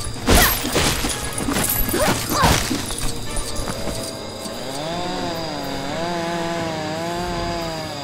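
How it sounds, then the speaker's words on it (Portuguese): A lawn mower running in the LEGO Jurassic World video game: a buzzing engine drone under crashing game effects, then a steady whine that rises and falls. "O cortador de grama ainda tá rodando aí"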